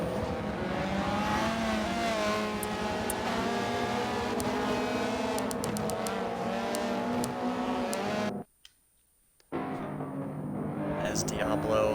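TCR race cars, a Chevy Cruze and an Audi, circulating at Laguna Seca during a Michelin Pilot Challenge round, engines droning and revving steadily under continuous race commentary, with a brief dropout near the end.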